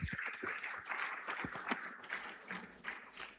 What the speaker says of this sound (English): Please make her welcome with a round of applause